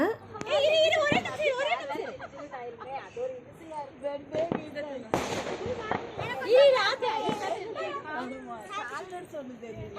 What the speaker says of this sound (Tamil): அங்கே குழந்தைங்கள்லாம் சேர்ந்து தீபாவளி அன்னைக்கு பட்டாசு வெடிச்சிட்டு இருந்தாங்க.